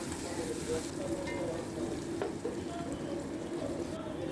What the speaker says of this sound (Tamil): இந்த எண்ணெயில் நல்லா வதங்க விடுங்க